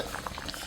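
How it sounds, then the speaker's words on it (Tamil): Fish curry bubbling steadily at a low simmer in a clay pot, with small soft pops and gurgles of liquid close by. "இங்கே மீன் கொதிக்க பாருங்க"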